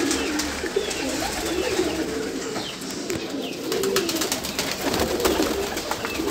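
Teddy pigeons in a breeding setup with squabs, soft repeated cooing close by over a constant murmur of the flock, with occasional sharper clicks and flutters and no talking.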